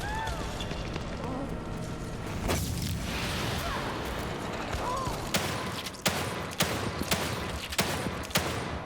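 Gunshots fired at a bulb in the video game The Evil Within 2: a few loud, sharp shots spaced about a second apart ring out over a dense, constant game soundscape.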